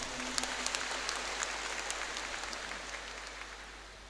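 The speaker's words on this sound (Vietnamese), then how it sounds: "Xin cộng đoàn một tràng pháo tay thật to." Congregation applauding during a Catholic bishop's ordination Mass in Vietnam, steady dense clapping from a large crowd heard from a distance, continuous and even throughout.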